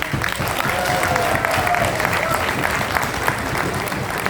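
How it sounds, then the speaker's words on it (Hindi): Loud audience applause at a celebration event, a continuous dense clatter of many hands with a few sharper claps standing out. "तो इनके लिए एक बार जोरदार ताली।"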